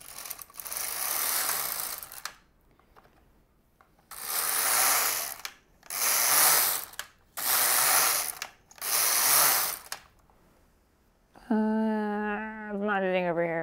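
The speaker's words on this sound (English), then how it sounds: "I'm gonna knit a couple rows." An LK-150 knitting machine carriage makes five rasping, clattering passes across the needle bed in a steady back-and-forth rhythm, separated by brief pauses, before a voice starts speaking at the end.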